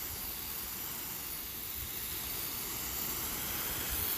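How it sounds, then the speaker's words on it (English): Water sprays steadily over free city compost layered into a raised garden bed, a continuous close broadband hiss that holds even for about four seconds with no voices. "we're just giving everything a good wet down between layers"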